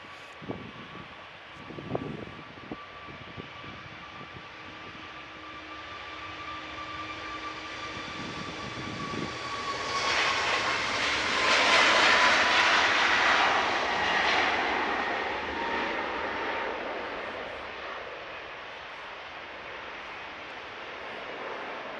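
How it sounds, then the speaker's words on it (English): A Jet2 airliner's jet engines power up at Manchester Airport, a steady roar that swells over several seconds to a loud broad rush at mid-distance, then slowly eases, with some wind noise and a few faint knocks early on. "Looks like Jet2 are powering up their engines, getting ready to leave for Athens."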